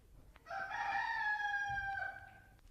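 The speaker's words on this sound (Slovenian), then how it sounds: "je zapijel petelin" A rooster crows once, a loud clear cock-a-doodle-doo rising and holding for about two seconds before trailing off, alone against a quiet background.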